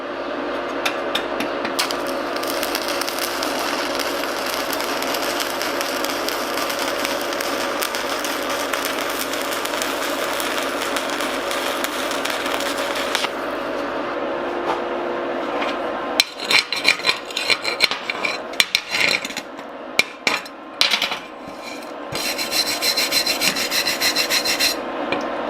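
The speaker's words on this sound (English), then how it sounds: "bump up that amperage a little bit to try and create that weld puddle. Let's go to 70 amps." Close-up stick arc welding at 70 amps gives a steady, loud crackling sizzle for most of the time, then it sputters into broken bursts as the arc catches and drops out.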